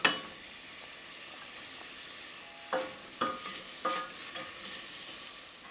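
Diced onions fry in butter and olive oil, a quiet, even sizzle with a few sharper stirring knocks and scrapes near the middle and end, no voices.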